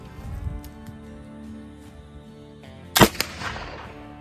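A single loud black powder gunshot, the powder made with cottonwood charcoal milled for 48 hours, cracks sharply near the end, followed by a smaller report and a fading outdoor echo.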